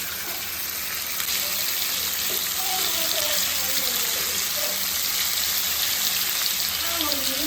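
Varal fish frying in a pan with egg, a loud steady sizzle and crackle of oil running throughout, close by, with a few faint whistling tones over it.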